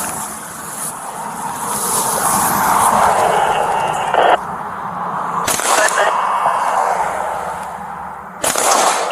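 A few sharp gunshots during a police shootout, roughly three separated bangs cutting through loud, noisy street sound while people shout and talk over them.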